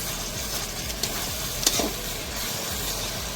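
Tomato and chili powder sizzling in a frying pan at a rooftop winter picnic, a steady close crackle with a few scraping stirs and a brief clink partway through, no talk.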